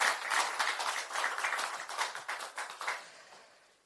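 A Korean election rally crowd claps for a candidate introduced on stage. The round of clapping is moderate and uneven, fading toward the end across nearly four seconds.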